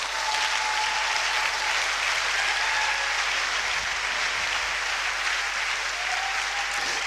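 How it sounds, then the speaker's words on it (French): A church congregation at a French-language Sunday service applauds loudly and continuously, a thick, even wash of many hands clapping throughout with no talking over it. "Applaudissez pour le Seigneur."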